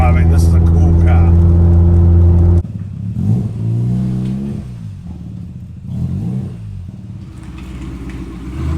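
Rotary-engined custom car, lowered on 20-inch wheels, drones steadily at first, then revs and accelerates in rising and falling surges, close and loud, with talk over parts of it.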